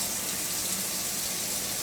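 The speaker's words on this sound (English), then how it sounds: "let's get this pot filled with water" Steady, dense rush of water from a kitchen pot filler faucet pouring into a pot, continuous and close with no pauses.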